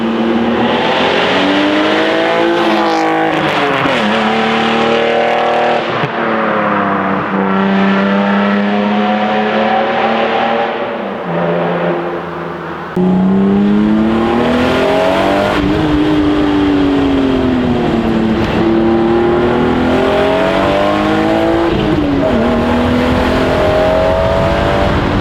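Car exhaust with the catalytic converters cut out of the OEM mid pipe, a straight pipe welded in and stock headers, revving loud and close in repeated rising and falling pulls with a raspy, droning tone and no talking.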